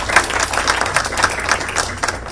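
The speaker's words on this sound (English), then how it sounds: "So let's give a big applause to them." An audience applauds party leaders at a labour-rights discussion held at Bangladesh's Permanent Mission to the United Nations. The clapping is steady and dense from many hands throughout, with no talk over it.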